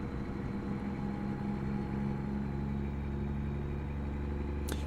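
A truck engine drones steadily in American Truck Simulator, a constant, even hum with no voices and a small click right at the end.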